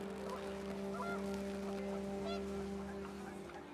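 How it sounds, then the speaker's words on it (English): Several geese honk in a brief flurry over a steady low hum and windy background noise, in the video game What Remains of Edith Finch. "The wind picked up and panicked geese appeared and quickly went."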